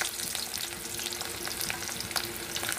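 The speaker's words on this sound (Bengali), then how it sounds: "তেলটা গরম হয়ে গেছে, দিয়ে দেবো একটু কালো জিরে ফোড়ন, আর দিয়ে দেবো কেটে রাখা পেঁয়াজ রসুনটা।" Onion and garlic with nigella seeds sizzle steadily in hot oil in a kadai, a dense continuous crackle with faint stirring taps, close and unbroken.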